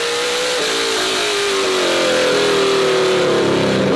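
A race car engine revs hard nearby during a short-track stock car race, its pitch climbing steadily as it accelerates on throttle out of a corner with a loud, continuous whine.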